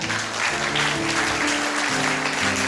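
A student congregation at a school revival service claps in a steady round of applause. Sustained organ or keyboard chords play beneath it.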